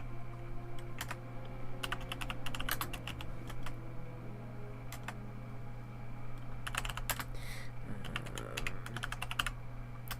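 Computer keyboard keys clatter in quick bursts of typing, with pauses between, over a steady low electrical hum during World of Warcraft play.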